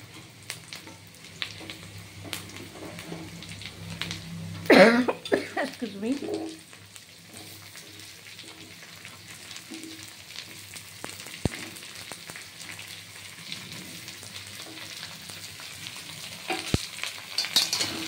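Pumpkin pieces fry with onions in a hot pan, a steady close sizzle broken by a louder burst of stirring and scraping around the fifth second, then settling back to an even crackle; a voice speaks briefly.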